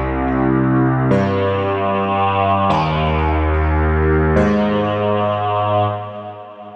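SpectMorph CLAP plugin synth playing three manually struck notes with per-voice filter modulation, each sustained tone opening bright and then mellowing, with the last note decaying at the end; no speech.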